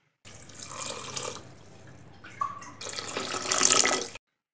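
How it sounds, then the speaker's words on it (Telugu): Water pours into a cooking pot of spinach rice in two bursts, a splashing gush that eases, pauses briefly, then swells louder before stopping abruptly. "నెక్స్ట్ దీనిలోకి వాటర్ యాడ్ చేద్దాం."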